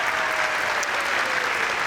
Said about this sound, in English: you can go ahead and clap for her.